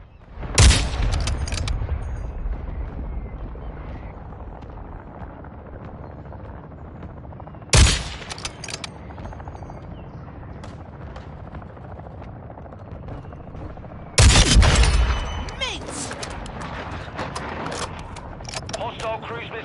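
Cruise missile strikes in Modern Warfare 2 land as three heavy explosions spaced several seconds apart, each a sharp booming blast with rumbling decay over a continuous background din.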